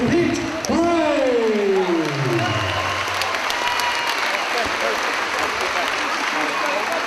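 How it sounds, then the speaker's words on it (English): A crowd at a fight night bursts into loud, sustained applause for a fighter, while an announcer's voice sweeps over the opening seconds. "let's have a fantastic round of applause for the fighting gentleman"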